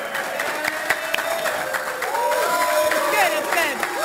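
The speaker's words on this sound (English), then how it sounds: "Round of applause, guys, please." A livestream audience applauds and cheers at the Planet Coaster launch event, a steady wash of clapping from a crowd that swells slightly toward the end, with voices mixed in.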